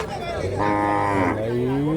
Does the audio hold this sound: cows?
yes